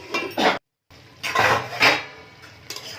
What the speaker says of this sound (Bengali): চিকেনগুলো দিয়ে আবারও ভালো করে নাড়াচাড়া করে পাঁচ মিনিটের জন্য ঢেকে দেব।